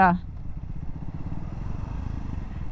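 Triumph Scrambler 400 motorcycle engine braking on the road, a steady low rumble with pulsing exhaust note and wind noise running continuously after a brief voice at the start.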